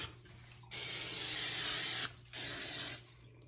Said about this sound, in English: and spray the tops